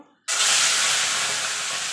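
Shrimp rubbed with salt and turmeric hit hot oil with a sudden loud burst of hissing sizzle that settles into a steady, close fry.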